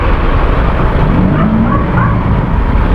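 Road traffic held up behind a garbage truck on a narrow street, a steady loud wash of engine rumble and passing vehicles at close range with no talking.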